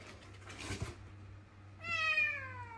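In the Tex Murphy: The Pandora Directive game, a cat lets out a soft, muffled sound, then a long, clear, drawn-out meow near the end, over a low steady hum.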